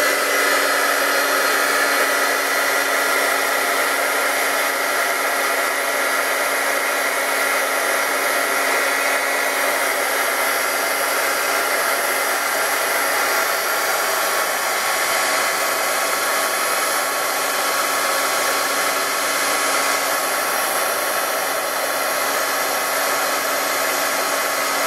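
A small heat embossing gun blows continuously with a steady whirring hiss and motor hum, unbroken and close for the whole stretch.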